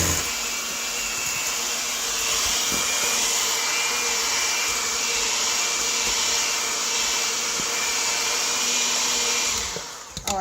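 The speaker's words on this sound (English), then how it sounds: "Now we're going to cream the butter and sugar together." Electric hand mixer creaming butter and sugar for a coconut cake: a loud, continuous high whine with a steady motor hum lasts about ten seconds and cuts off at the end.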